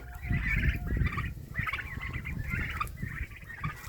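An adult turkey gobbles repeatedly at close range, rapid warbling calls coming in a steady series over low rumbling background noise.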